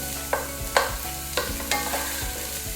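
Thinly sliced onion and carrot fry in a little oil in a pan for Pad Thai, a constant close sizzle broken by four or five scraping stirs with a utensil.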